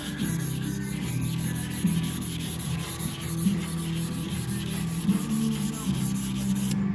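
Steady rasping strokes of a sanding block across a 1970 Volkswagen bay window bus body panel, continuous and close, with a dull scrubbing texture throughout.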